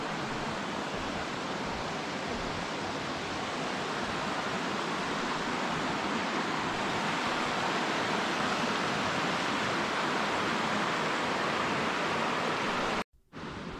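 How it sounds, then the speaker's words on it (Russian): A river in the Carpathians near Yaremche rushes steadily in a dense, unbroken hiss of flowing water, loud and constant, before cutting off briefly at the very end. "послушать шум реки."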